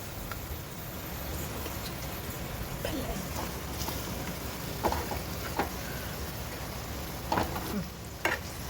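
Okra frying in a pan as sambar powder goes in and is stirred, a steady soft sizzle with occasional spoon scrapes and clinks.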